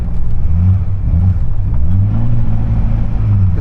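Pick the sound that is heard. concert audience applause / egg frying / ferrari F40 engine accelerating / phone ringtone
ferrari F40 engine accelerating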